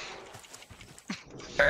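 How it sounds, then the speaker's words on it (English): A pig squeals as it is killed in a survival video game set on a stranded island, soft scattered noises building to a sharp, loud squeal at the very end. "Can I hear the sound of you killing a pig?"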